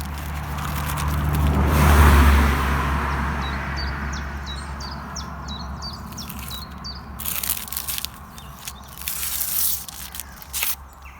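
A car passes nearby outdoors in springtime, its rumble swelling to a peak early on then fading away, followed by birds chirping and some rustling and handling noises close by.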